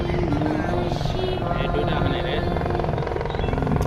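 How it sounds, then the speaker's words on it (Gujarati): A helicopter's rotor thumps steadily in a loud, continuous drone as it approaches a landing ground at Kedarnath, with people talking over it throughout. "જો સામે હેલિકોપ્ટર આવે છે"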